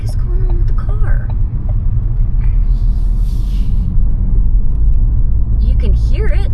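A Ford Focus with a failing transmission stuck in first gear gives a loud, steady low rumble from inside the cabin. A voice talks quietly over the droning engine noise.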